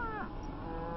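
A single cow moos briefly in a livestock stockyard, a low drawn-out call that rises over a steady background murmur and then fades into the noise.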